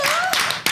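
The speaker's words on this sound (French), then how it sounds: "j'ai envie d'applaudir très fort le grand comédien Boudère" Studio audience clapping for the comedian Boudère, a short loud burst of mixed claps over a fading tonal whoosh, with brief sharper surges.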